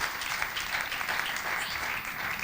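A church audience applauds and cheers in a continuous, dense wash of clapping that holds steady and fairly loud throughout.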